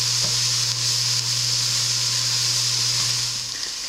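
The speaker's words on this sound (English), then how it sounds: "I'm going to let these onions cook for 3-ish minutes" Onions sizzling in a pot as the base for a pot roast, a steady, close frying hiss with occasional faint stirring clicks, continuous and alone.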